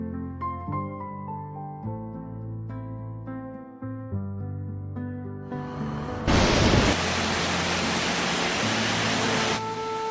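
Rain pours down in an animated school drama, a dense steady hiss that bursts in after soft music, holds loud for about three seconds and then drops away abruptly.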